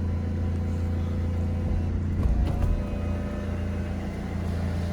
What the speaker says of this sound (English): With regard to roof operation, so we'll do that for you now.